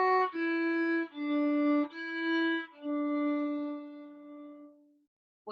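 A solo violin plays a beginner tune with a few sustained bowed notes that start full and fade to a soft, light-pressure tone before the sound stops, close and unaccompanied.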